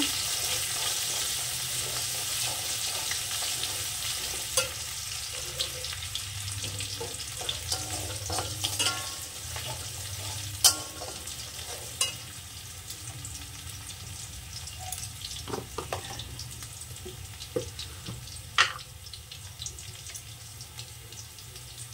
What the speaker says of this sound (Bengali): আদা কুচি আর লঙ্কা কুচি আমি একসাথেই দিয়ে দিলাম। হালকা একটু ভেজে নেব।